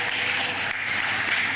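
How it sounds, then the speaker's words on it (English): An audience claps at a diabetes management seminar in Jamaica, a dense burst of applause that stays steady for the whole short stretch, with voices mixed in. "let us give each of us a round of applause"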